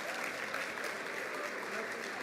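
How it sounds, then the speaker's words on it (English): Steady applause from an audience at a National Forum for Black Public Administrators event welcoming new board members, dense and even throughout, heard at a moderate distance. "let's give our new board members a round of applause."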